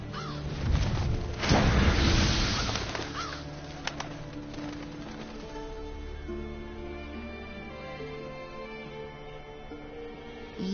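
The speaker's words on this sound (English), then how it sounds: "They're scavenger birds that enjoy large monsters' leftovers." Revoltures, scavenger bird monsters in Monster Hunter World, give a loud flurry of flapping and squawking early on that fades into softer game ambience and tonal music.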